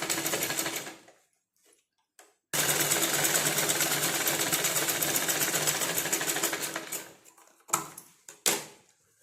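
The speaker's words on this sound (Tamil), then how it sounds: "இந்த மாதிரி கீழே கூட வச்சு ஒரு ஸ்டிச் போட்டு எடுத்துருங்க" Sewing machine stitching a blouse patti piece, running in a fast steady whir in two bursts separated by a short pause, then brief stops and starts near the end, loud and close with no talking.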